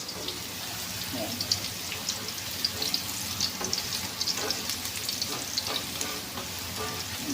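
Chopped ginger and garlic fry in hot oil until golden for sangkutsa, a steady dense sizzle and crackle with frequent stirring scrapes running throughout, close and fairly loud.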